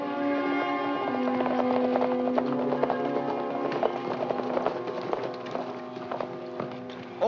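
Galloping hoofbeats, a steady clip-clop of more than one horse, run under a full orchestral score that stays loud throughout.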